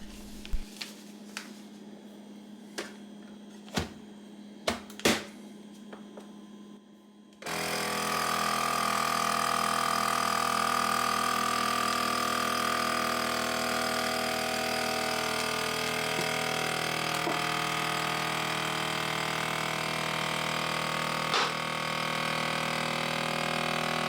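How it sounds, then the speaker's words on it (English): A SEATAO commercial food vacuum sealer starts with a few clicks and then runs with a loud steady motor hum and hiss as it draws the air out of a bag and crushes a plastic pop bottle. "Look how fast it's taking this air out of the bag and crushing the plastic bottle."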